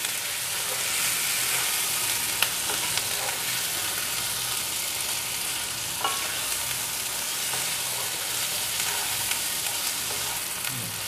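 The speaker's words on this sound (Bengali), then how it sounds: "আমি এবারে একটু জল অ্যাড করব।" Chicken curry sizzling steadily in a pan as water goes in, a dense continuous hiss and crackle with occasional faint stirring clinks, close and even throughout.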